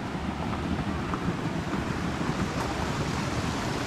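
Water rushes steadily through a narrow rock gap in a canyon in Val Vertova near Bergamo, Italy, a continuous broadband roar with a windy, surf-like hiss and no pauses.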